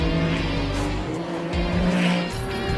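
A Ferrari 296 Challenge race car on a lap of Miami International Autodrome, its engine roaring loud and close with a steady drone, brief shifts in pitch and a hint of tyre squeal, with no voices.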